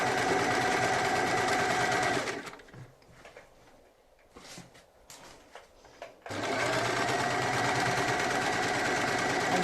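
A sewing machine stitches bias binding with pins left in, running loud and steady with a fast mechanical whir, then stopping for a few seconds of quiet handling noises before starting again at full speed.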